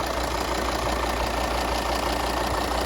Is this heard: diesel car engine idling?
yes